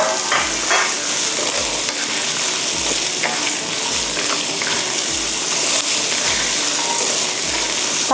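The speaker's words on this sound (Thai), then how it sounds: "ผัก2ชนิดนี้นะคะค่อนข้างที่จะมีเนื้อแข็งนะคะเพราะฉะนั้นจะต้องนำมาผัดก่อนแบบนี้นะคะ" Carrots and kale stems stir-fry in a hot wok with a loud, continuous hiss of sizzling oil and a steady rhythm of spatula scrapes against the metal roughly every second.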